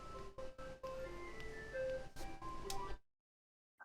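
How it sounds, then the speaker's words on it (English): An ice cream truck plays its tinkling melody faintly and at a distance for about three seconds amid soft thumps, then cuts to near silence. "I heard an ice cream truck"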